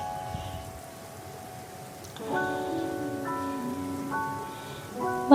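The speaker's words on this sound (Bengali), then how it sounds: "1 টেবিল চামচ লবণ দিয়ে ভালো করে ভেজে দিয়ে দেব ধুয়ে রাখা আলুগুলোকে" Potatoes fry with turmeric and salt in a pan for a simple Bengali aloo bhaji, giving a steady soft sizzle under background music.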